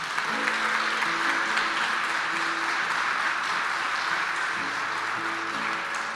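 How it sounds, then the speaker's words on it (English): An audience applauds steadily for several seconds, a dense wash of clapping with faint tonal sounds underneath. "give her a round of applause"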